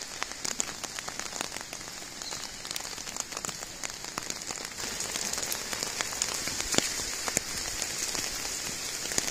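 Heavy rain pours down steadily in Belize during flooding from Tropical Storm Nadine, a dense hissing wash with scattered close drops and pattering on surfaces, continuous throughout with no speech.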